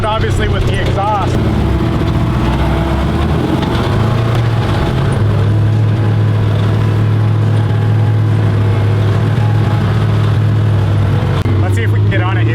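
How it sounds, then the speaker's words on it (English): A side-by-side's loud, steady engine drones with a rough, raspy exhaust note, holding a constant idle-like rumble throughout with slight shifts in pitch. "It's kind of loud, obviously, with the exhaust."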